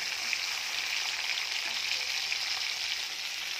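Chicken pieces frying in plenty of oil until they turn reddish, a steady dense sizzle that holds at an even loudness throughout, close and with no voices.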